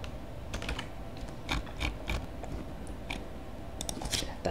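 Computer keyboard keys tapped in a few quick bursts and isolated clicks during a copy-and-paste of text, close and crisp over a quiet room background.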